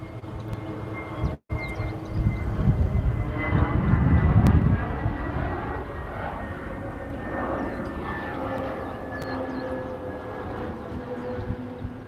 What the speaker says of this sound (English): What time is the flyby?